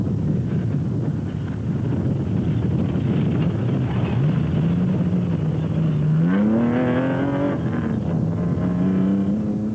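GBS Racing Nissan race car with a stripped third gear circling a track in a 2004 endurance race, a steady droning engine tone rising in pitch partway through, heard from a distance with wind noise.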